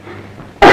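A single sharp cough bursts out loudly and close by at the very end, following a brief quiet stretch.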